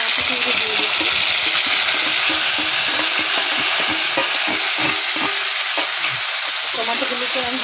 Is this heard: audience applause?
no